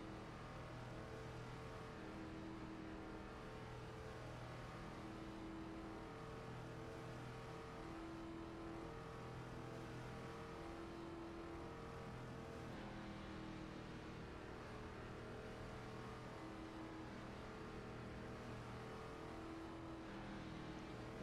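An ARCA race car engine at Daytona in iRacing drones steadily at high revs, a loud, continuous in-car tone with slight pitch shifts as it holds speed, no voices over it.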